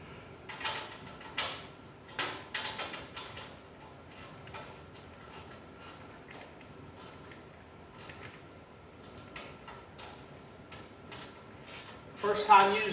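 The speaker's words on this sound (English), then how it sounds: "ratcheting wrench." A Mako ratcheting wrench turning an 11 mm fastener during a Porter-Cable bandsaw build gives bursts of quick, sharp clicking in irregular runs, separated by pauses, close by and fairly quiet.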